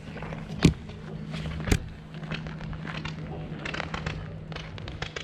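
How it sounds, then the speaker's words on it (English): Fireworks go off at the BusFusion 2019 gathering at dusk, two sharp distant bangs early on over a steady outdoor hum and faint crackling. "Well, we got more fireworks."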